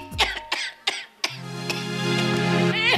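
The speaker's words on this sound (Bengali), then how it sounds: "মা, ও মা, তোমার কাশিটা বেড়েছে বলনি কেন?" An elderly woman coughs four times in quick, harsh bursts, then makes a drawn-out strained vocal sound, all close and fairly loud in an indoor dramatic scene.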